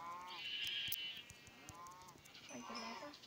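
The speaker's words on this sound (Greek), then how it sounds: "Ω, πρόβατο, πάλι. Ω, 2 πρόβατα." Sheep bleating in the survival video game Minecraft, two or three wavering bleats at moderate loudness, one near the start and another near the end, over faint game ambience.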